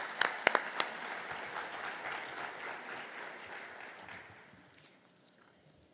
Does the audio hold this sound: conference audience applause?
yes